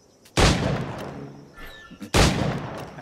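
Two loud, sharp gunshots about two seconds apart from an old firearm in Assassin's Creed IV: Black Flag, each followed by a long booming decay, with faint metallic handling noise between them.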